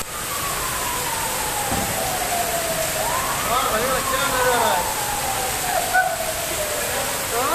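Rainwater gushes steadily along a flooded street near Chowpatty on Sea Face Road in Mumbai during heavy monsoon rain, a continuous close rushing wash with a wailing siren passing in the distance.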